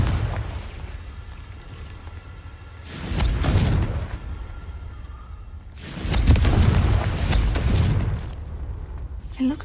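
Confringo spell blasts in Hogwarts Legacy erupt as two loud, rumbling explosions a few seconds apart, each a deep booming burst that decays slowly over an ambient cave drone.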